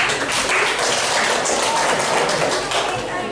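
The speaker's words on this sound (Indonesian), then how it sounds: "Boleh tepuk tangan dulu untuk Raul" A classroom of students applauds a classmate named Raul, a dense, steady wash of clapping throughout with some voices mixed in.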